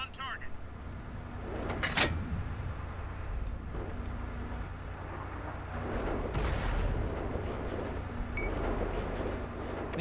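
Tank cannon fire in World of Tanks on console, a sharp boom near the start and a heavier blast midway over a constant engine rumble, with a player talking throughout.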